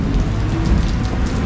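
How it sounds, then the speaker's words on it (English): Steady rain falls on a Manila street during the rainy season, a close, continuous wash of drops on hard surfaces with no pauses. "Let's get out of the rain"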